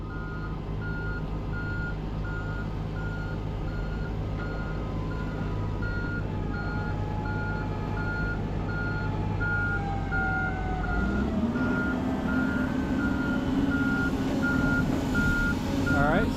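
A dump truck at a snowy landfill backs up beneath a raised excavator bucket, its steady reversing beeper pulsing in an even rhythm over a loud, continuous diesel rumble that shifts pitch near the end.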